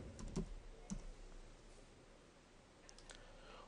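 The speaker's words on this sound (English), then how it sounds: "I can type in totals" Light typing on a computer keyboard while entering a word into a spreadsheet cell, a few quick close key clicks at the start and again near the end, quiet in between.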